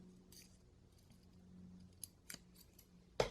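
Scissors snip through a planner sticker from a Happy Planner sticker book, a few quiet short cuts and a sharper final snip close by over a faint low hum.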